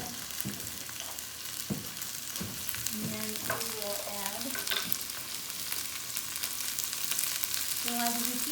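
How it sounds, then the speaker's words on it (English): Onions and garlic sizzle steadily in a hot pan, a constant crackling hiss with a few faint clinks of a utensil. "We're going to throw the onions and garlic in."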